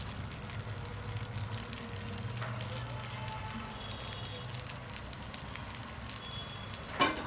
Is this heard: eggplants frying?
yes